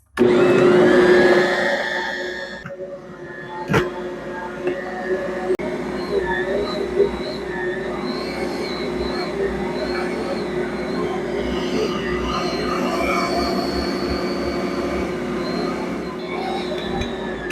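A stand mixer with a dough hook kneads dough for several minutes, a steady mechanical whir and hum running on continuously, preceded by a brief louder burst at the start.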